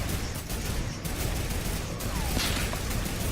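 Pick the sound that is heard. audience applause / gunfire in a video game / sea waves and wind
gunfire in a video game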